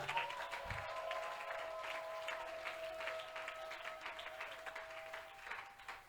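A church congregation applauds and acclaims Jesus Christ in a sustained burst of clapping and cheering that holds steady for several seconds, with a few sung or shouted tones ringing over the crowd.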